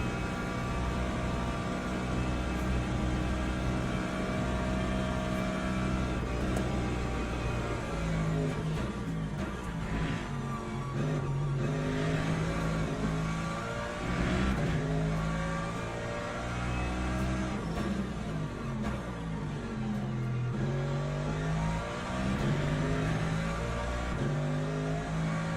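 Race car engine in the Le Mans Ultimate sim at Bahrain, revving hard and dropping through a run of rapid downshifts with rising and falling pitch sweeps, loud and continuous with no talk.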